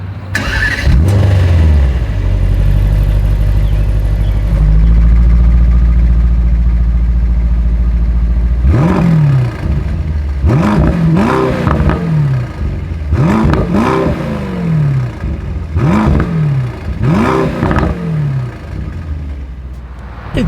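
A 2024 Mercedes-AMG GT 55 coupe engine starts with a loud burst and settles into a deep idle, then the exhaust is blipped through about five sharp rising-and-falling revs, each roaring up and dropping back, loud and close with no talking.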